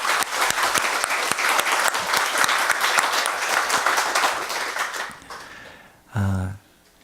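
Congregation clapping in a church at a first-anniversary Sunday service: dense, steady applause for about five seconds that thins out, then a short burst of voice near the end.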